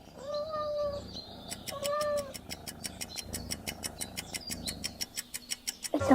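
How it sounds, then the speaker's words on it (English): A cat meows a couple of times in a farm-animal sound quiz, followed by a fast run of sharp clicking or tapping that speeds up toward the end. "It's a cat."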